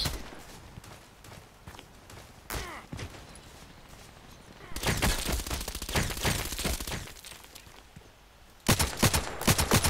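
Rifle gunfire in a sniper video game with an RFB rifle: crackling bursts of shots, with loud, dense volleys midway and again at the end over a busy background.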